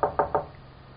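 Three quick, evenly spaced knocks on a wooden door, close and crisp, followed by quiet, in a radio drama scene.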